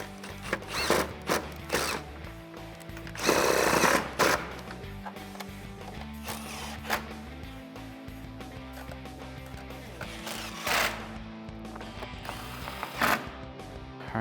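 Power tool driving 10mm bolts into the chrome grille trim of a RAM 1500 pickup, several short whirring bursts with clicks and handling noise in between, close, without talk.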